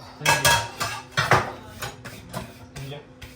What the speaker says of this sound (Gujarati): આ તારા કામમાં છે ધોવાના આવા વાસણ